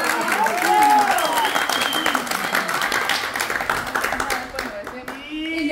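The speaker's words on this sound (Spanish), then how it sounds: "¡Aplausos!" Crowd applause and clapping at a gathering, loud and close at first, then thinning and fading toward the end, with voices calling out over it.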